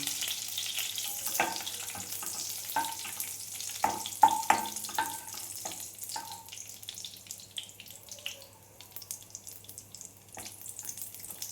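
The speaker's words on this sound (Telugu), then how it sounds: "ఫస్ట్ డ్రై ఫ్రూట్స్ వేయించుకున్న తర్వాత కొంచెం బాగా ఎర్రగా వరకు కొంచెం వేయించుకోవాలండి." Dry fruits frying in a pan for kesari halwa, a soft, faint sizzle with scattered crackles and pops and occasional stirring scrapes, quiet and close, with no talking.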